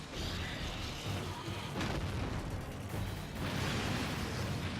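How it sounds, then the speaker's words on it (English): Explosions from the monster Brachydios in Monster Hunter XX roar as a dense, continuous rumbling blast, with a sharp burst near the middle and a louder surge of crackling noise toward the end, with no voices. "I guess I'll just manage to completely dodge all the explosions without getting an adept dodge."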